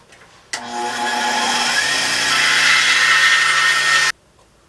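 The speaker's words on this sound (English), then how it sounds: "Do that real quick on the bandsaw." A bandsaw roughs out scoops in wood for guitar top bracing, a single loud, steady cut of about three and a half seconds that starts and stops abruptly, with no speech.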